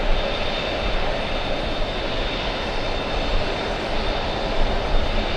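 A Lufthansa jet airliner slowing on runway 13 left after landing makes a steady, moderately loud engine roar, heard from a distance and unchanging for the whole stretch, with no talk.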